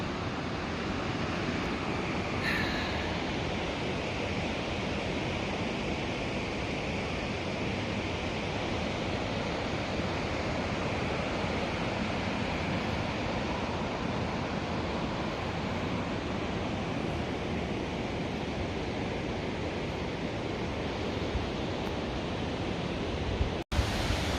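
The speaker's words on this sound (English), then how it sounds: "Found the other rushing water that I could hear. It's pouring down." Rushing water pours steadily down a ravine on a hike, a dense, continuous roar heard up close for the whole stretch, with a single sharp knock near the end.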